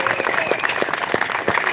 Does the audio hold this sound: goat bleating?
no